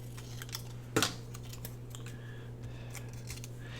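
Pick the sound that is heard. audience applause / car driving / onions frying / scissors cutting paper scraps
scissors cutting paper scraps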